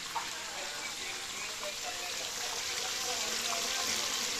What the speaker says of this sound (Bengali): তেল ঢালতে আছে শুধু।